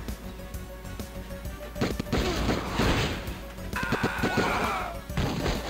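Pistol shots from Die Hard Trilogy on the Sega Saturn light gun stage, with loud clustered bangs, crashes and impact noises in quick irregular bursts mixed with game effects and music, and no speech.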